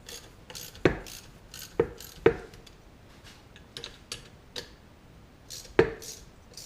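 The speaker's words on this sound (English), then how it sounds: "You can hear that bearing seating in the bottom housing as we tighten these bolts" A PM727 milling machine motor bearing seats into its lower housing as the housing bolts are tightened, giving a few sharp, isolated pops and clicks spaced a second or so apart over light mechanical rubbing in a quiet workshop.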